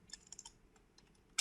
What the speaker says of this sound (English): Now the second important thing I'm just gonna do is just typing text